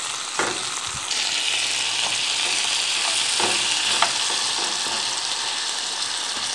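Butter chicken base with tomato sauce simmering and frying in a pan, a steady sizzle with occasional spoon clinks and stirs, close by.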